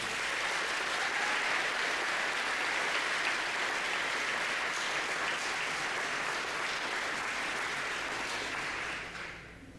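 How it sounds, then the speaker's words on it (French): Sustained audience applause at a secondary school graduation day in Lavaltrie, honouring graduating students and their parents; steady dense clapping that holds for most of the stretch, then fades out near the end. "Une bonne main d'applaudissements, s'il vous plaît"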